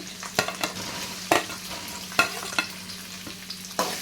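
Baby potatoes frying in hot oil for an egg curry, a steady soft sizzle with occasional louder stirring clacks and scrapes, close up with no voices.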